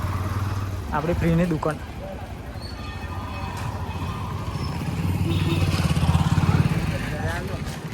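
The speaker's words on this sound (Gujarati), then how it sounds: "હા કાકા બાઇક લઈને આવ્યા છે" A motorcycle engine rumbles nearby, swelling louder toward the end, while people talk over it.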